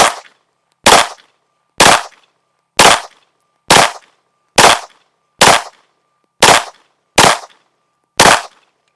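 Ten sharp, loud Derya DY9 pistol shots ring out at an outdoor range during a timed drill, evenly spaced about one second apart, each a crisp crack with a short decaying tail and nothing else heard.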